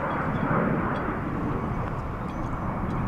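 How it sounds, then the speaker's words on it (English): An Atlas Air four-engine jet roars steadily past at DFW International Airport, a broad, continuous rumble that stays loud for the whole stretch with no voices. "Atlas Air quad jet is on its way to Fairbanks, Alaska"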